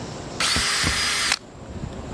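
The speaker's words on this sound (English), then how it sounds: "Drill her in. We'll do the pilot holes" Power drill boring pilot holes for a Maxx Air roof fan in a van build, one steady high whine of about a second, close and loud, with light knocks before and after.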